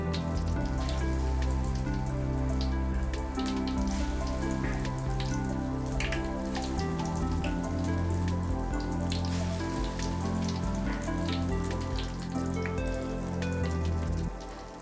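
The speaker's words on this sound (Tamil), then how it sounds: "பஜ்ஜி பீர்க்கங்காய் பஜ்ஜி ரெடி ஆகிடுச்சி, வெந்துக்கிட்டு இருக்குது" Ridge gourd bajji fritters fry in hot oil, a steady dense crackling sizzle that holds close and constant throughout, with a low hum beneath it.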